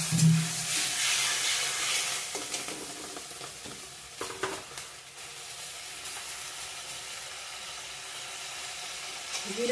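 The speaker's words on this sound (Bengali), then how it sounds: "একটু জল দিয়ে কষিয়ে নিচ্ছি" Onions with ground cumin, coriander and chili powder sauté in a pan with a splash of water, giving a steady close sizzle and steamy hiss with occasional stirring scrapes, no talk.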